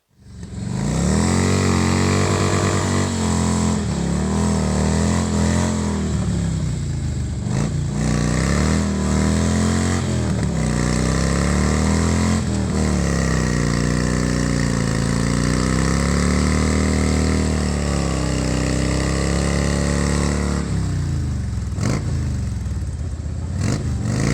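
Motorcycle engine running steadily and loudly up close while its tire is balanced at a Sturgis campground, a continuous throbbing idle with small rises and dips in revs.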